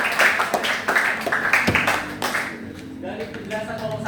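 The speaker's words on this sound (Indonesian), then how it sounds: "Oke, tepuk tangan dulu buat kelompok 1." A classroom group gives applause for the first presenting team: scattered hand claps rattle for about two seconds, then fade as students begin talking.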